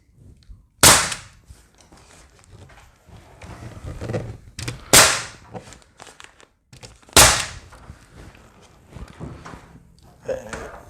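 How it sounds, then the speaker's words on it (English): Nail gun face-nailing soft cedar V-match ceiling boards in a woodworking shop: three loud, sharp pneumatic bangs spaced a few seconds apart, with quieter shuffling and handling noise between. "we're just go ahead and face nailing it and not worrying about trying to be blind on the nails"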